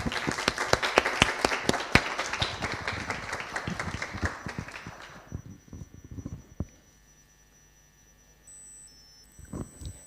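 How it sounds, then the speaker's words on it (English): Audience applause after a talk on sex, gender and neuroscience: loud, dense clapping for about five seconds, then thinning to scattered claps and fading into near silence with a faint electronic tone and a brief burst near the end. "I don't know if you hear the applause, but we really liked your talk"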